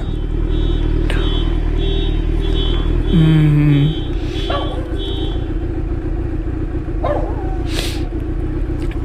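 Motorcycle fitted with a homemade-looking aftermarket exhaust idles steadily nearby, a constant loud engine drone with a short rising rev and a few faint clanks, no voices.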